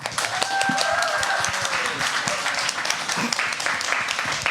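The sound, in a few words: audience applause for the two team captains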